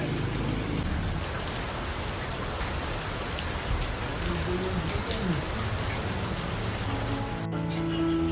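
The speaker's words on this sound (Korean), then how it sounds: "빗줄기가 엄청 굵게 오네요." Heavy rain pours down in thick, fat streaks, a dense, loud, continuous roar of drops hitting surfaces. It cuts off abruptly near the end.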